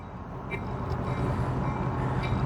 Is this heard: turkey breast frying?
no